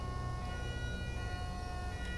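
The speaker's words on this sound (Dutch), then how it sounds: "Daar komt de ambulance met de nieuwe ambulance sirene die jullie nog niet hebben gehoord" A new Amsterdam-style ambulance siren sounds in GTA 5 LSPDFR, a steady tonal wail sitting under dense low rumble of traffic and game ambience, fairly faint and continuous throughout.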